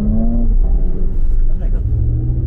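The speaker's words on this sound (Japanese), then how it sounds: "で、スポーツ排気システムオンになってますね、やっぱり今。" A Porsche Cayenne Coupe hybrid with its sport exhaust system switched on gives a deep, steady low rumble throughout, heard under people talking inside the car.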